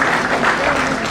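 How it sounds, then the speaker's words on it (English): A corporate summit audience applauds a panelist as he is introduced, a short, loud, dense burst of clapping that fills the hall. "Huge round of applause."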